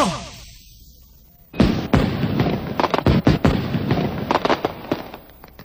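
Homemade fireworks from a father's firework-making business go off in a rapid crackling barrage of pops and bangs, loud and close, after a rising whistle trails off.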